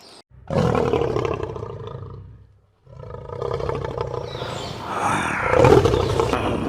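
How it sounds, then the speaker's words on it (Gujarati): A lion roar sound effect: two loud, close, drawn-out roars separated by a short pause, the second rising into a rough, growling peak. "સિંહનો અવાજ આવે"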